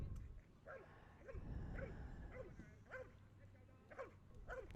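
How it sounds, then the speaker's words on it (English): A dog barks repeatedly and forcefully in a steady rhythm during a guard exercise at a PSA protection dog championship, somewhat distant, over low background rumble and crowd noise. "Very nice, powerful barking in the guard."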